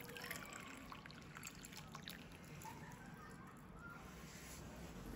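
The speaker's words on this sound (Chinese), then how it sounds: "把保温杯里面的开水倒掉" Hot water poured out of a thermos cup, a faint, continuous trickle and splash lasting a few seconds at low level.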